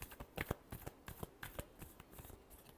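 Tarot cards being shuffled by hand, a quick run of crisp papery riffles and soft slaps, close and fairly quiet, with no voices.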